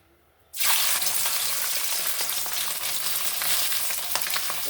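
Desi stinging catfish (jiol, singhi) sizzles loudly in hot oil in a home kitchen, a sudden burst of dense frying crackle that starts after a brief quiet moment and holds steady, with no talking.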